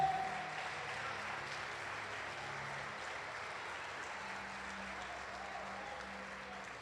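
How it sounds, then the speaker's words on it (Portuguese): A church congregation applauds during a worship service, a steady even wash of clapping that starts strong and holds at moderate loudness throughout, with faint background tones underneath. "E você aplauda Ele"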